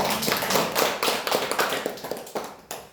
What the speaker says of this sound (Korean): 박수 한번 해드립니다.